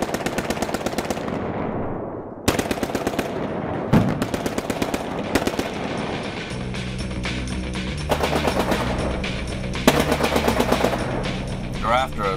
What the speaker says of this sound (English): There's a machine gun, simulated machine gun in that window.